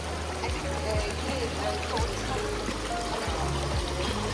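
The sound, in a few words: mountain river water flowing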